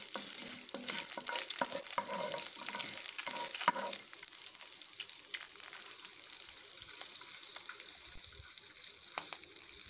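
Chopped onions frying in a pan, a steady soft sizzle with busy stirring and clatter during the first four seconds, then the frying continues alone, quiet and close with no speech.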